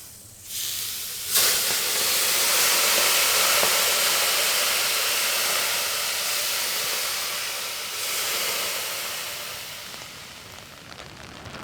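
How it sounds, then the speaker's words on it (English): Water poured onto hot rocks atop a wood-fired sauna stove bursts into a loud, sustained steam hiss that surges, holds for several seconds, swells again near the end and slowly fades, with no talking. "the rocks on top, we could pour some water and get some steam"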